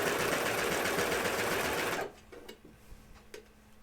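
A home sewing machine stitches elastic onto True/Bias Hudson pants, a loud fast steady whir for about two seconds that stops abruptly, followed by faint handling noises.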